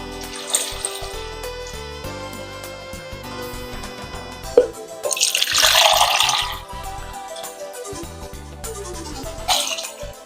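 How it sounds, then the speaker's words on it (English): Two liters of water pour and splash into a pot in several bursts, the gurgling rising in pitch as it fills, with brief pauses between pours. "So now we'll go in with 2 liters of water."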